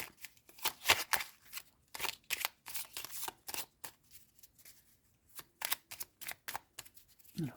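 A deck of oracle cards is shuffled by hand in repeated crisp riffling bursts, close and fairly quiet, with short pauses between shuffles and no talking.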